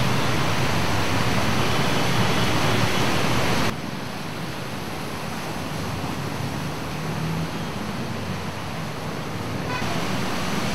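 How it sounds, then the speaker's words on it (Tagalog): Dense, steady roar of heavy rain on a flooded street in Manila, loud and continuous, easing slightly partway through but never stopping; no voices. "bumagsak na naman yung malakas na ulan"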